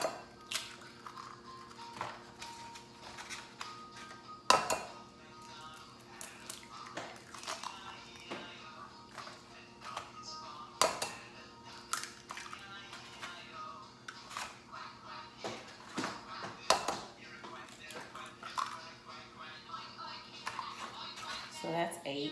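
Eggs are cracked one after another into a bowl for a breakfast casserole, giving sharp, irregular taps and clicks against the rim in a quiet kitchen, with people talking in between.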